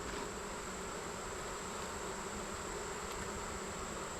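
Honeybees buzz steadily inside an opened hive during a late-summer inspection, a dense, continuous drone with no talk over it.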